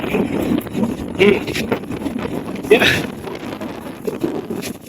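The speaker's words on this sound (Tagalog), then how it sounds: "Mahangin siya. Malamig yung hangin." Gusty desert wind during a sandstorm in Libya buffets the microphone in uneven rushes, with blowing sand and a few brief murmured interjections from a nearby person.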